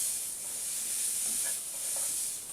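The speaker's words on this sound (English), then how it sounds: "Okay, it's sizzling away." Slices of chorizo and peperami fry in a pan together with pork sausage, giving off a steady, close hiss and crackle that continues without a break.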